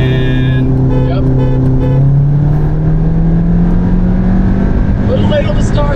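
2024 Ford Mustang GT racing a Stage 1 MK8 GTI, a loud, steady engine drone heard from inside, its pitch climbing smoothly as the car accelerates hard.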